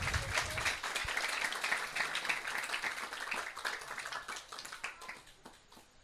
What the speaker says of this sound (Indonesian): Tepuk tangannya mana buat beliau-beliau?